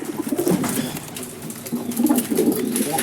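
Young pigeons in a loft coo in repeated low, throaty rolls, close and fairly loud, overlapping one another throughout.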